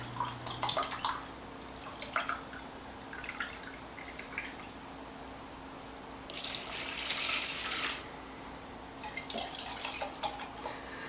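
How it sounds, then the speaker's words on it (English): Liquid trickles and splashes in short bursts into a can as chicken broth and water are poured for a chicken and rice dish, quiet and close with a faint steady hum behind it. "so I'm just going to put some water in it."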